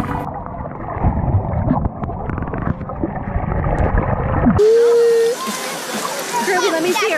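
Water splashes and gurgles steadily from a pool waterfall, close and fairly loud, while friends chat and call out over it.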